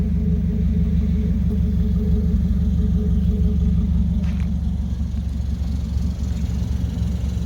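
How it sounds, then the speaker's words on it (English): A warm Mazda car engine and exhaust at idle, a deep steady rumble close by, even and unbroken with no revving, no voices over it. "sound of the exhaust here."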